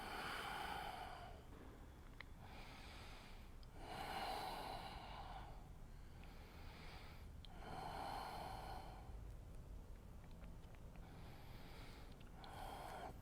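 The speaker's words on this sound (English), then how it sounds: "A couple rounds of deep breath." Deep, slow breaths during a yoga pose on a mat, four long inhale and exhale cycles spaced about four seconds apart, close and quiet with airy texture.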